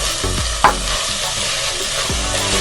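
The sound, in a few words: spices frying and being stirred in a pan for black-eyed pea curry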